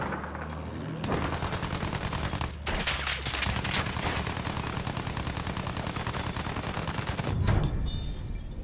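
Sustained automatic machine gun fire in a war video game, dense rapid bursts running almost the whole time with a brief gap, loud and continuous over battlefield noise.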